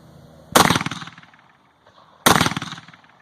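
An AR-15 rifle with no flash hider fires two loud, sharp shots outdoors, each followed by a ringing, echoing decay, spaced under two seconds apart.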